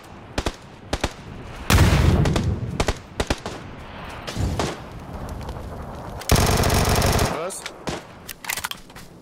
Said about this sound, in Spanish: Me han disparado desde el fondo.